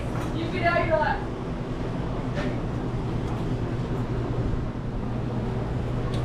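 An LS V8 with an aggressive camshaft, missing one O2 sensor pigtail, idles with a steady, deep, close rumble throughout, and a short voice-like sound comes in near the start.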